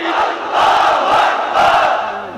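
A large crowd at a religious sermon gathering shouts back in unison in answer to the Nara-e-Takbir slogan, two loud swelling waves of massed voices, close and forceful.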